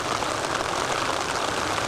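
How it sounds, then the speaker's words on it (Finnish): Steady rain hisses evenly by a mountain river in Sweden, a dense wash of patter with no pauses and no voices. "Yöllä alkoi sade."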